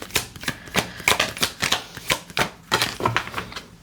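Goddess oracle cards being shuffled by hand, a quick run of crisp riffling flutters and soft slaps repeating steadily and close, with no talking.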